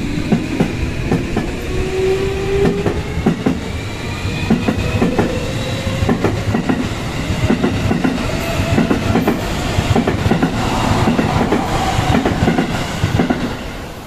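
A Tokyo Metro Chiyoda Line subway train runs at Yoyogi-Uehara station on through service to the JR Joban Line, bound for Abiko. It gives a loud, steady rumble with rhythmic wheel clatter and a faint rising whine throughout.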